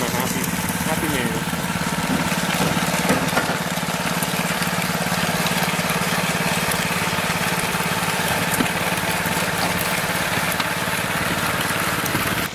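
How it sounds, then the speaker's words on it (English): A tractor engine runs steadily in the background at a cabin building site while the driver moves root balls. The low mechanical hum stays continuous and fairly constant throughout, without any obvious pauses. "As you guys can tell in the background, Ronnie was hitting it with the tractor."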